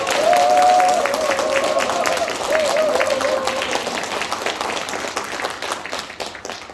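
A crowd at a Democratic Party election rally in Gwanak applauds for a lecturing lawmaker, sustained clapping with a brief voice over the start, gradually fading.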